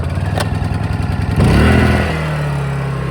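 A Honda portable generator beside an RV is pulled to start with the choke on. A small engine chugs, catches with a rising surge and settles into a steady, close idle hum, with no talking.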